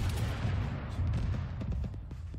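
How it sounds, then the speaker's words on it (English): Heavy boom and rumble of a rocket launcher back blast in the Arma 3 military video game, a loud close blast followed by a rolling low-end roar that slowly fades with scattered distant cracks. "Oh, that's my back blast!"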